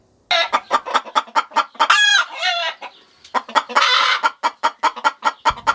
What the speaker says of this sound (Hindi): सुनिए आपने इस मुर्गी की यूनिक आवाज़, जो कि अभी अंडे देने वाली है